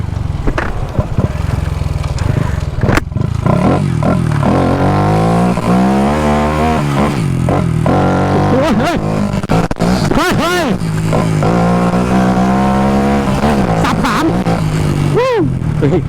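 Motorcycle engine revving repeatedly while riding a rough forest trail, the pitch rising and falling in surges, with a voice talking over it throughout.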